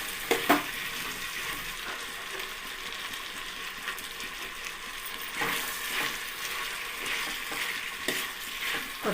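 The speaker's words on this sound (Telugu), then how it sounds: "పుదీనా వేసుకున్నాక కాస్త ఇవన్నీ కలిపేలా కలుపుకుందాం" Mint and spices stirred in hot oil for biryani: a continuous soft sizzle with scattered scraping and clinking strokes of a spoon against the pot, close and without talk.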